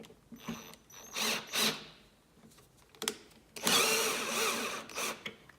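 A wrench loosens the bolt holding the fuel tank on a Yamaha R1 RN12 motorcycle, with close bursts of ratcheting clicks and mechanical rattles separated by short pauses.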